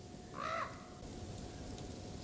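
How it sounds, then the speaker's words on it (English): A raven in a spruce forest gives one loud, hoarse croaking call at mid-distance, followed by quiet woodland ambience. "Oh my goodness, that raven."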